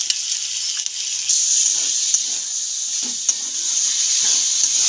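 Vegetables for a homemade veg chow mein sizzle in a hot pan as chili, soy and tomato sauces go in, a loud steady frying hiss with occasional stirring clicks and scrapes, close up and without speech.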